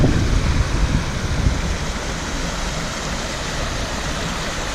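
Strong outdoor wind buffets the microphone on a walk at Glendalough in County Wicklow, a loud, steady broadband rush with heavier low gusts at the start and no voices.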